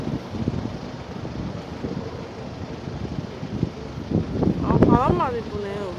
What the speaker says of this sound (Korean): 바람 많이 부네요.